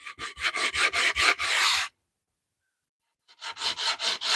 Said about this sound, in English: the guy sanding the box